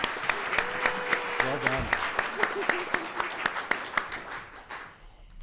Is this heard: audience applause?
yes